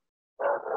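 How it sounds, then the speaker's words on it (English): A dog barks once outdoors in a yard, a short single woof or yelp at moderate level, heard alone against silence. "If you're hearing a dog barking, forgive me, that is my dog in the yard."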